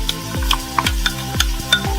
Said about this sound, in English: Then we're going to sweat off the onions first.